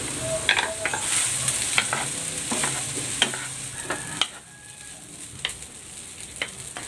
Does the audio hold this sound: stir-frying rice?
yes